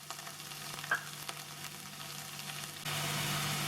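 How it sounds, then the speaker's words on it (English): Chopped onion and cashew pieces sauté in a pan for vegetable Maggi noodles, giving a steady, close frying hiss with a brief stir clink, then a slightly louder sizzle near the end. "Sauté till onions look translucent"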